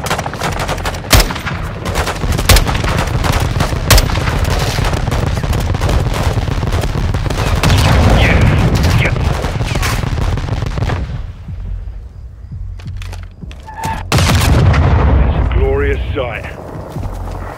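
Air support strike on a building in Call of Duty: Modern Warfare 2, with heavy sustained gunfire and rumbling explosions close and loud, a brief lull, then another strong burst of blasts and shooting.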